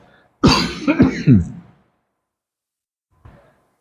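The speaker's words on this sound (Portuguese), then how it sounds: "Eu vou ter que tossir." A person coughs and clears their throat in a quick burst of three harsh hacks, then a faint trailing sound after a pause.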